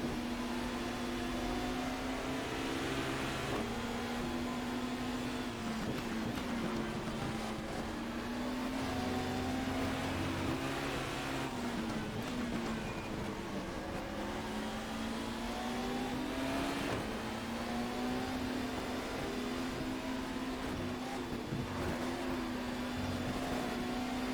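Touring car engines in the GTR 2 racing game, 1994 BTCC season at Knockhill with a Ford Mondeo and Schnitzer BMW, drone steadily with rising and falling pitch as the cars accelerate and lift through corners, loud and continuous throughout.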